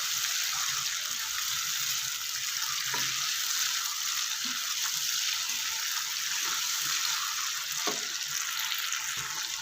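Moringa (sohanjna) fries in a pan with a steady, even sizzle, punctuated by a couple of faint clinks of stirring.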